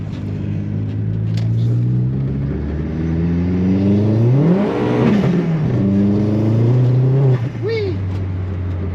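A modified Corsa accelerates hard on a soaking wet road, its engine note climbing loudly through the revs, peaking midway, then settling to a steady drone with tyre hiss; someone speaks briefly.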